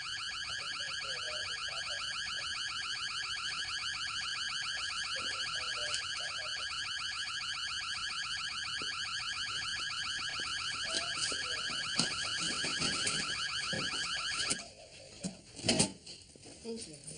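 A house security alarm blares a steady pulsing electronic tone for about fifteen seconds before stopping abruptly, with people talking and moving around underneath it.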